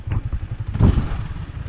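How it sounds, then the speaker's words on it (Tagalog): A motorcycle idles and shuffles as it is rolled into a parking spot, giving a low, lumpy engine rumble with a brief louder burst midway. "Yan, at ipaparking lang nila yung motor."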